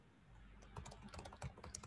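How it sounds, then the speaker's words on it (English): Rapid, uneven keyboard typing with clustered clicks of varying loudness over a faint low hum, fairly close. "I'm typing it."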